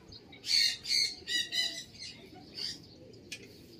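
Birds in a racing pigeon loft give four sharp, bright squawks in quick succession, followed by a few fainter calls against a quiet background.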